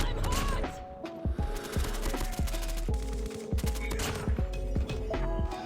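Rapid gunfire from an AS VAL assault rifle and other weapons in the Call of Duty Mobile video game crackles in short bursts over game music and effects, fairly quiet and without talk.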